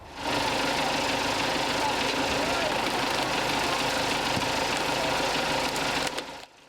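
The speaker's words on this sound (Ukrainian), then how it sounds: "Як тільки зникає живлення, до подрібнювача в допомогу приїздить трактор." An MTZ-89.2 tractor engine runs steadily to drive a converted wood shredder during a power outage, a loud continuous mechanical drone with rattling vibration that holds for about six seconds, then cuts off abruptly.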